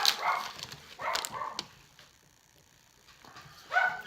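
Faint dogs bark in the background, a couple of quick yaps, then a pause before another short bark.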